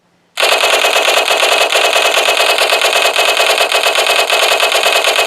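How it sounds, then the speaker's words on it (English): An M1A1 Thompson submachine gun fires one long, loud automatic burst of about five seconds. The rapid shots come in an even, steady rhythm from start to finish, with no voices over it. "let's actually hear the M1A1"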